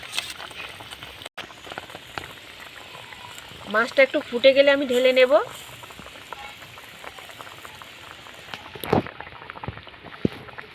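Mustard sauce bubbling in a pan for hilsa fish curry, with a short burst of boiling in the middle, a quiet kitchen around it and a clatter near the end.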